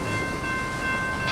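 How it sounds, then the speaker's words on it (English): A manifest freight train from Slaton, Texas to Denver, Colorado rumbles past near Lubbock with a steady, loud rolling roar and faint high squealing tones, no voices. "this is a Slaton, Texas to Denver, Colorado manifest freight train"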